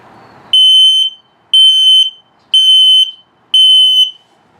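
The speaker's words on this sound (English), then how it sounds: "LP is good, carbon monoxide coming up, and then the low battery alert." RV LP and carbon monoxide detector in a 2022 Starcraft Autumn Ridge 26BH under test, sounding four loud, shrill, evenly spaced alarm beeps with short gaps, close and alone.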